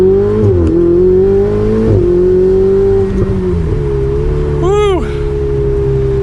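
A Ferrari 488 Spider engine drones steadily up close from inside the cabin, its pitch wavering, then a sharp rising-and-falling rev flares near the end before settling back to a constant hum.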